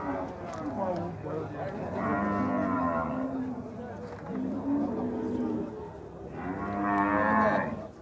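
Cattle moo at a livestock fair in Campina Grande, Brazil, in long, low, drawn-out calls, several in a row with short gaps, fairly close with faint background voices.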